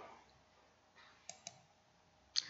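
Computer mouse clicking while working in Windows Explorer, a few faint, sharp clicks, including a quick double click, in a quiet room with no talking.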